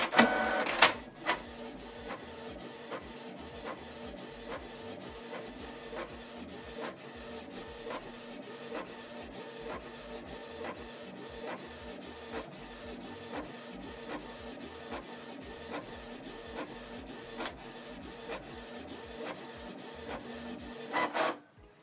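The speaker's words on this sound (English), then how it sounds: "So this document, we're going to print first document in color." A Canon Pixma TS3355 inkjet printer prints a color document, its steady mechanical whirring carrying a regular ticking rhythm of carriage passes for about twenty seconds, starting and ending with louder clunks, close and alone.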